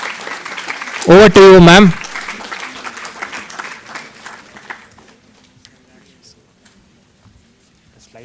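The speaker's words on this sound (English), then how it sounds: "Let's give her a round of applause." An audience at a youth mental health and sport consultation program in India applauds a nutritionist, a short patter of clapping that fades away under a host's speech.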